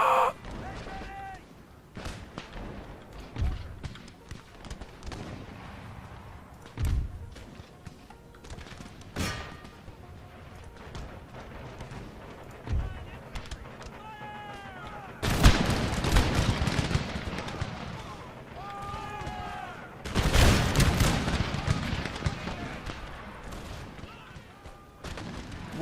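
Musket and artillery volleys in the video game Empire Total War, a crackling patter of shots that builds into two dense bursts of rolling fire, with game voices calling out in between.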